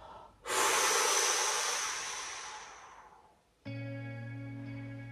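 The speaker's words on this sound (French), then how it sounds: "respirez profondément" Deep, slow breathing during a guided stretching session: one long, airy exhale that fades over about three seconds, close and prominent, followed by a steady hum.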